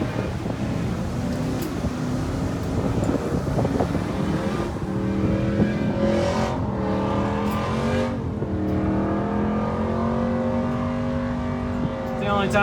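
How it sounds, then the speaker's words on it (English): A truck engine revs hard and steadily in a burnout at a truck event, a loud continuous roar with rising and falling pitch, heavy wind noise, and voices faintly underneath. "It's the only time you can do a burnout."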